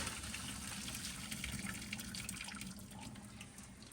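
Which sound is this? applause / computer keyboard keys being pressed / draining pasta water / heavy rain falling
draining pasta water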